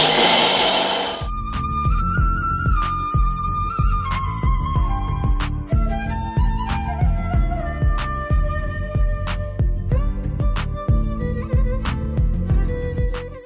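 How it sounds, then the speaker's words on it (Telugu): Roasted gram dal being ground in a mixie blender jar, a loud whining motor with rattling, pulsing grind that shifts pitch as the load changes, running nearly continuously after a brief opening burst, close with no speech. "ఈ పుట్నం పప్పుని మిక్సీ జార్లో వేసేసి"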